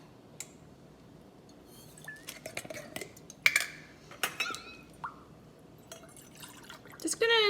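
Bone broth poured from a jar into a keto refried bean mixture, giving soft drips and wet splashes among light clinks of kitchenware, with someone talking throughout.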